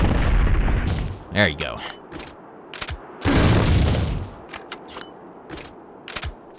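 Burst rounds from an ultimate weapon in Resident Evil Outbreak File 2 boom out as a couple of heavy, loud blasts separated by a pause, with a brief spoken voice between them.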